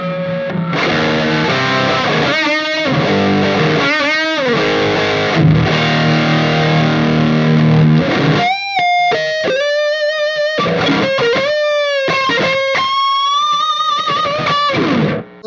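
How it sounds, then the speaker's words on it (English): High-gain distorted electric guitar through a Squier Stratocaster, noisy and saturated. Dense strummed chords give way to sustained, bent single notes, loud and continuous with no voices. "the tone I'm using, it's got a lot of gain on it, so it's a little bit noisy"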